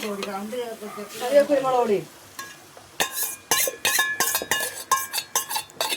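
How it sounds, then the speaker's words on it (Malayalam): Five beaten eggs poured into a hot pan for egg thoran bring a sudden loud sizzle with bursts of stirring and scraping. A voice talks briefly just before, and the hiss continues alone afterwards. "പച്ചമണം മാറി വരുമ്പോഴത്തേക്ക് നമുക്ക് മുട്ട ഒഴിച്ചു കൊടുക്കാം"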